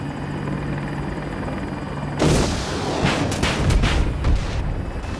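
Apache attack helicopter in Battlefield 2042 firing 127mm rounds and TOW missiles: a steady rotor drone gives way to a sudden loud burst of explosive booms and gunfire layered over the continuing helicopter roar.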